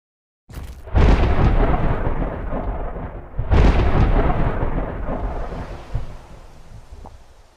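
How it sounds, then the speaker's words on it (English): Two heavy rumbling thunder crashes in the mobile game Island Questaway, a few seconds apart, each rolling and slowly fading amid wind and rain noise. "That was quite a storm."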